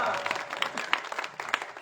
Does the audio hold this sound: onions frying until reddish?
no